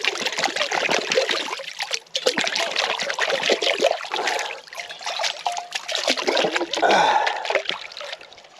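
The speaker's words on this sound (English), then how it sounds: "Do the dishes a bit here." Dishes being washed by hand in a river in the South Dakota badlands, with steady trickling and splashing water throughout and occasional louder sloshes, close by and continuous with no talking.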